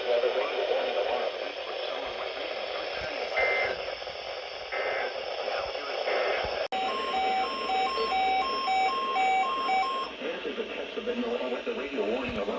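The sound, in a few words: National Weather Service weather radio warning alarm tone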